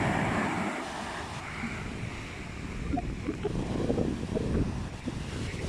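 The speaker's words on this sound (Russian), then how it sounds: "Такой ветер только что был сильный." Strong wind buffets the microphone at the stormy sea in Alanya in December, with a steady roar of rough waves beneath it. The rush continues throughout, with no talk over it.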